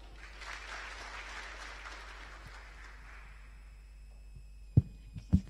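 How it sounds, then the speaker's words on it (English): A hall audience at a youth hangout event in Rwanda gives faint, steady applause that tapers off, followed by a couple of close thumps. "Can we give her a round of applause again?"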